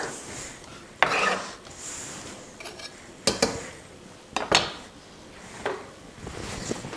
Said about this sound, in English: Give it a little stir.